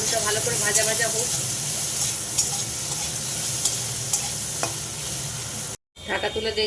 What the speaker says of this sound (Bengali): আলুটা ভালো করে ভাজা ভাজা হোক।